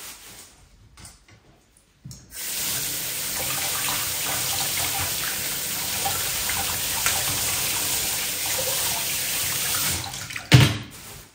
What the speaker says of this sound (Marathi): चेरीज आहे हे चाळण घेतलेले आहे, त्यावर स्वच्छ मी धुवून घेणार.